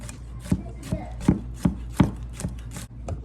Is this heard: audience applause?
no